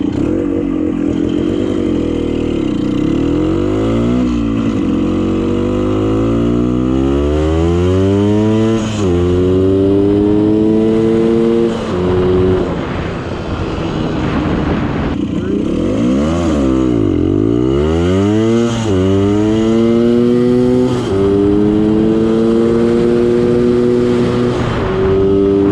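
A Honda MT250 motorcycle engine revs hard and climbs through several gears from a standstill, the pitch rising and dropping with each shift, loud and close throughout.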